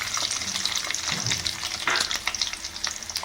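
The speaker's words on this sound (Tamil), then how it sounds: "இப்ப நம்ம சின்ன வெங்காயத்தை ஆட் பண்ணிடலாம்" Small onions (shallots) tipped into hot oil after fried vadagam for a traditional fish kuzhambu, giving a loud, dense sizzle with bursts of crackle as they are stirred, close and continuous.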